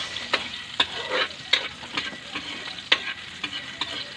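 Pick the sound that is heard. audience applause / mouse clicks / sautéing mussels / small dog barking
sautéing mussels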